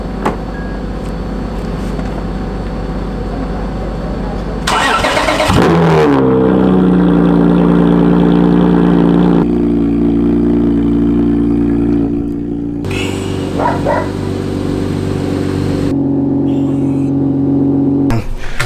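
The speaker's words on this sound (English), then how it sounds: "Time to start the cars. I honestly feel kind of bad. It's kind of ridiculously loud." A car engine fires up and runs loudly, with a sharp start-up surge around five seconds followed by a steady, rumbling idle that holds strong and close for the rest of the clip.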